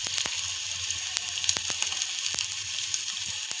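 Tomatoes dropped into hot frying oil, a continuous close sizzle and crackle with a few sharp pops, no voices.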